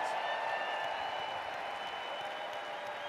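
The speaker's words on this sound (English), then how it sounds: "all regional vice presidents that are here deserve an incredible round of applause" Moderately distant applause from a business meeting audience greeting regional vice presidents sounds as a steady, even wash of many hands clapping without pause.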